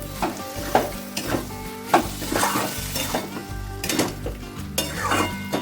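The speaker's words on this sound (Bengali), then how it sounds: "এবার ডাল ঢেলে দেব ডালটা দিয়ে একটু নাড়াচাড়া করে নিই" Chana dal stirred with spices in a hot pan, a spoon scraping and clinking against the metal in a steady rhythm over continuous close sizzling and frying.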